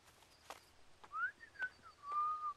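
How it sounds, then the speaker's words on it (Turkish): A cartoon character whistles to birds with a few short rising and falling notes. The whistling is faint, comes after some soft clicks and rustles, and no one speaks. "Neden ıslık çalıyorsun?"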